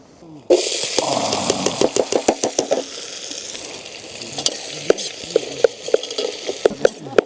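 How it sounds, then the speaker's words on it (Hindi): Loud, steady sizzling of ghee tempering in a pan, with a rapid series of sharp clicks and taps from a spoon stirring close by. "देसी घी में मारा जाएगा तड़का बढ़िया वाला"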